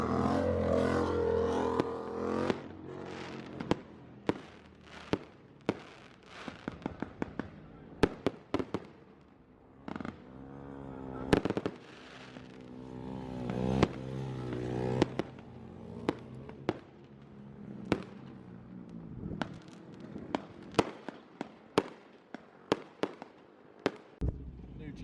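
Fireworks and firecrackers going off at a UK car meet, with repeated sharp bangs scattered across the scene, some close and loud, amid excited voices and crowd noise.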